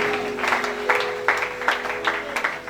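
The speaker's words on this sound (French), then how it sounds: "Acclamons la parole de vie." A church congregation at a Sunday service applauds in steady, rhythmic bursts of clapping at a moderate distance, with a sustained low tone running underneath.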